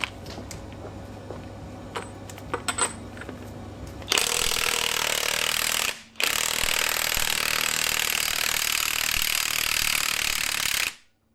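An impact gun with a 30mm socket loosens a nut on a Ducati Hypermotard 1100 engine, first quiet handling clicks, then two long, loud continuous rattling bursts split by a brief pause.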